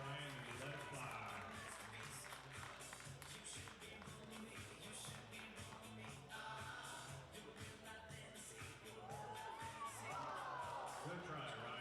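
A crowd of basketball fans at an Eastern Wyoming College game against CWC cheers and chatters steadily through a half-court shot attempt, a dense, continuous roar with voices and shouts mixed in.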